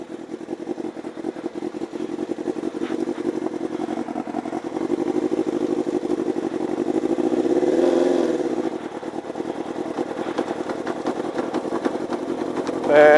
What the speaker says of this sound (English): every time I have to start my bike, I have to open up the choke.